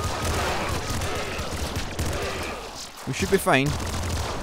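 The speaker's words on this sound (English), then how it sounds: "Quadruple machine gun is the kind of weapon you take if you have a bullet run already sorted" A quadruple machine gun in the PC game Nuclear Throne fires a steady, dense rattle, with a rising electronic game effect near the end, while someone talks briefly over it.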